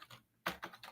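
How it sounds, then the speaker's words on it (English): Brief burst of typing on a computer keyboard: a few quiet, quick key clicks in an uneven rhythm with a short gap, heard alone. "I'm having a hard time typing today."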